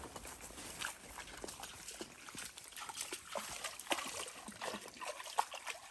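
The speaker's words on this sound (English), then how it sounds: "Exploring a little stream." Small stream trickling steadily at close range while a German shorthaired pointer puppy explores it on a golf course, with faint splashes and light movement through the water; no talk.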